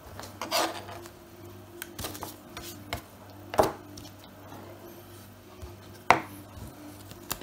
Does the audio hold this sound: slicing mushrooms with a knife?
yes